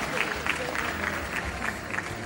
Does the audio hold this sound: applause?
yes